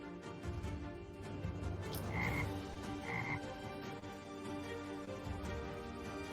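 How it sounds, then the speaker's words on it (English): Frogs croak around a lake at night, a dense overlapping chorus of throaty calls with a couple of brief higher tonal bursts, steady and fairly close throughout. "Are those frogs? But they sound angry."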